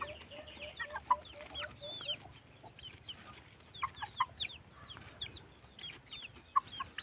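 A flock of mestizo crossbred chickens clucks and chatters continuously in a coop, with many overlapping short calls at moderate distance over a low background hum.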